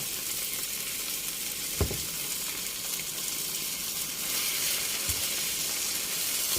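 Eggs and bamboo shoots sizzle in a hot pan for a stir fry with basil, a steady close crackling hiss broken by a couple of sharp knocks from a spatula or pan.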